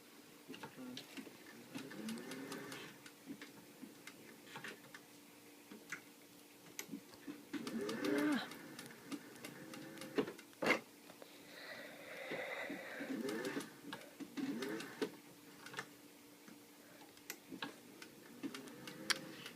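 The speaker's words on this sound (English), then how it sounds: "I'm going to sew very close to that pinking shears line" A sewing machine stitches bodice fabric close to a pinked edge, faint rapid ticking bursts that start and stop in short runs, quiet and close, with a low voice speaking at times.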